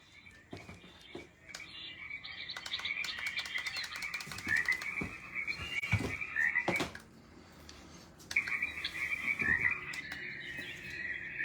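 A baby lullaby machine plays recorded frog croaks in repeated rattling bursts, with faint bird-like chirps and light handling knocks underneath.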